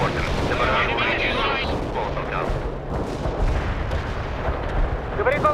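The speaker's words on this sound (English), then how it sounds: "Firing mortars." Dull booming mortar barrage fire in World in Conflict rumbles continuously amid battle noise and distant blasts, loud and dense, with radio voices talking over it.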